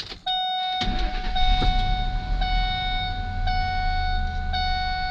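A 1999 Ford F250 4x4 V8 cranks and catches quickly, then settles into a steady, loud idle with a high whine running through it and a few faint clicks.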